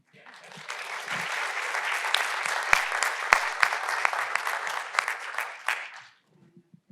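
A symposium audience gives a short round of applause that rises quickly, holds with a few sharp claps standing out nearby, then fades to quiet with faint murmurs.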